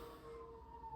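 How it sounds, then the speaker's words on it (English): Faint emergency vehicle sirens wail outside, a distant tone gliding slightly in pitch against a low rumble, very brief and quiet. "these sirens are pissing me off"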